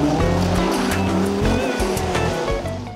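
A 1985 Audi Sport Quattro S1 Group B turbo rally car drives on a rough track, its engine loud and close and revving hard throughout, with tyre scrabble and gravel noise underneath.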